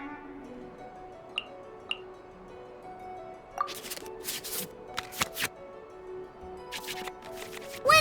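Cards being shuffled back into the draw pile in the Genshin Impact card game: a few soft chimes, then a flurry of quick papery card flicks in bursts, with a final louder swipe.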